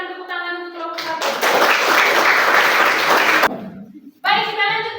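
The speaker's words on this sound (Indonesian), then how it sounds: "Berikan tepuk tangan untuk kelompok 1" A classroom audience in a Catholic religious education teaching session bursts into dense applause for about two seconds, with a voice speaking just before and after.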